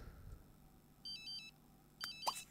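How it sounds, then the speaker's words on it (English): Phone ringing in the video game The Sims 3 Island Paradise: short electronic ringtone bursts in two separate rings, faint and clear over quiet game background. "Just answer her phone now."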